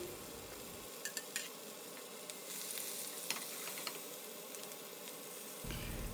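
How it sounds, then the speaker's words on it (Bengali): Hilsa fish frying lightly in a pan with very little oil, a steady close sizzle with a few soft metallic clinks of a utensil against the pan. "এখন আমি মাছগুলো খুব হালকা করে ভেজে নিচ্ছি।"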